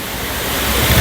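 A waterfall at Kolukkumalai in Munnar roars with a loud, continuous broadband rush of falling water that swells slightly toward the end, close and unbroken, with wind buffeting mixed in.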